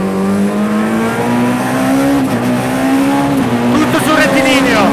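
Peugeot 207 S2000 rally car engine screaming loud and close, pitch climbing steadily through a gear then dipping at a shift before rising again, with tire noise underneath and a voice talking over it.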